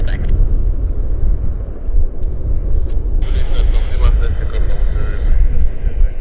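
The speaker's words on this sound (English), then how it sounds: "It's a Q400 inbound from Kelowna." A Bombardier Q400 turboprop airliner lands at Vancouver airport, a continuous low rumble heard under people talking throughout.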